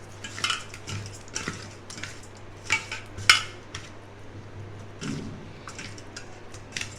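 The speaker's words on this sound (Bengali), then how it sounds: "1 চামচ লবণ, 1 চামচ হলুদ দিয়ে এটাকে আমি মেখে নেব ভালো করে" Fish being hand-mixed with salt and turmeric in a metal bowl, with repeated clinks and scrapes against the bowl and soft wet squishing, close and moderately loud, over a steady low hum.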